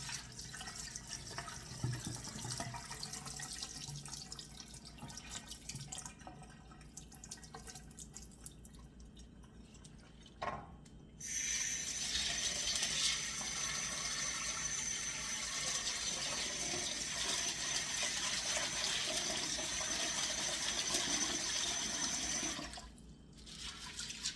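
Black beans are rinsed in water, with close running water, splashing and dripping, then a louder steady rush of water poured or running from a tap.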